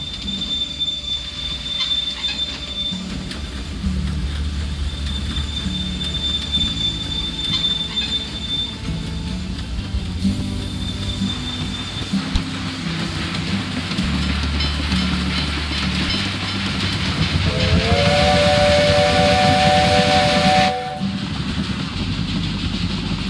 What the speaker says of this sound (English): Let's wait until the train reaches the other city.